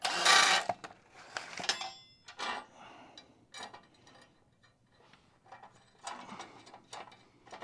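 A threaded part on a broken racing rig is wound down its thread, giving bursts of close ratcheting, clicking mechanical turns with short pauses between, fairly loud at first and then softer.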